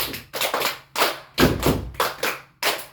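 Hand clapping in a class counting routine, with short groups of sharp claps in an uneven rhythm, close and fairly loud, separated by brief pauses.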